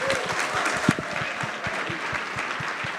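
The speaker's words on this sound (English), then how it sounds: "Let's give him a round of applause." A crowd at a Bitcoin conference applauds steadily, the clapping dense and sustained for a few seconds at moderate distance.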